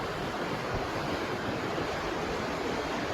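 Sea waves and surf wash in a continuous, full rushing roar with no breaks, steady and moderately loud, with no voices.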